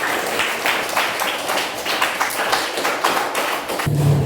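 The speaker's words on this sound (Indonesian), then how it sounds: "Ya, beri aplaus untuk kelompok." A classroom group gets steady applause, many hands clapping at a moderate level for several seconds.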